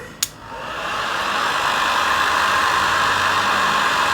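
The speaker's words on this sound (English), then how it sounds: "I have to start off my very noisy heat gun" A click, then a heat gun roars to life and runs steadily with a loud, constant blowing whir and hum.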